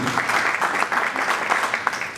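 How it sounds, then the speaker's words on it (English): Audience applause at a script reading, a dense continuous patter of clapping at moderate level that runs steadily through the moment. "We deserve some applause"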